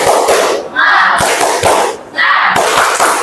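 Classroom students perform a rhythmic spirit clap, with loud groups of sharp claps and thumps in a set pattern broken by brief pauses, mixed with the crowd's shouted chanting.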